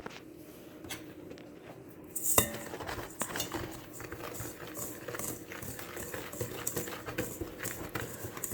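Citric acid and Epsom salt powders are stirred together in a bowl, giving quiet scraping and light clinks from the utensil against the bowl, with a sharper knock partway through.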